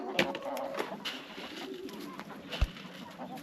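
Homing pigeons coo softly at close range in a backyard loft, with a few low, rounded calls spread over a few seconds and quiet background noise.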